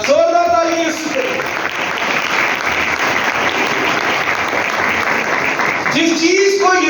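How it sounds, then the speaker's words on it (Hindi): A church congregation breaks into loud, sustained applause during a sermon, with a preacher's voice heard briefly before and after the clapping. "जोरदार ताली यीशु पे"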